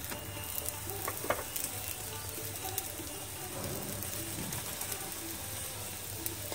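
A paneer-stuffed paratha roasts with ghee on a hot griddle, giving a steady, fairly quiet sizzle and crackle throughout with a few small taps and scrapes.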